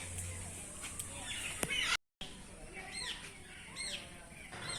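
A peacock at Guwahati zoo gives several short, rising-and-falling calls, faint and some distance away, amid a noisy visitor crowd. There is a brief dropout partway through.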